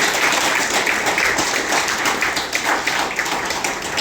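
An audience at a recognition ceremony for Muslim-friendly accommodation gives a big round of applause, loud close clapping from many hands, continuous and slightly uneven throughout.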